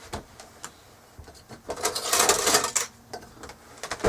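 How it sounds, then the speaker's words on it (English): Flour, baking powder and fine salt are whisked together in a bowl for chocolate chip cookie dough, making a rapid clicking and rattling of the whisk against the bowl that swells to a brisk burst, then eases off. "So I'm going to just put that in there and go ahead and get that whisked up."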